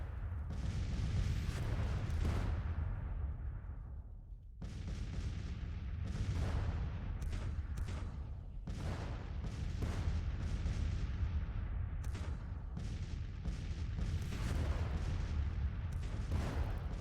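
A battery of Civil War 6-pounder cannons fires in a video game: loud, overlapping booms roll almost continuously, with a brief lull before the volleys resume and echo heavily.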